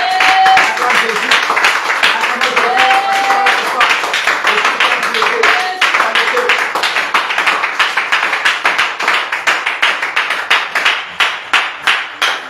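A church congregation claps and applauds to acclaim Jesus at an evening worship service, loud sustained clapping that settles into a steady rhythmic beat, with a voice speaking over it.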